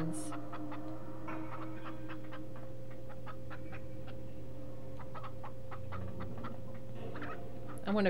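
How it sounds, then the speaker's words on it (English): Chickens cluck and peck in the video game Rule of Rose, with soft, scattered clucks and ticking sounds over a steady background hum. "Poor chickens."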